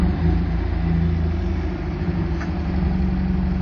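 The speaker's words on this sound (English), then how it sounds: "The car then, starting on the button with a very loud growl" MGB Roadster engine running with a loud, deep growl, a steady close rumble that continues evenly throughout with no talk.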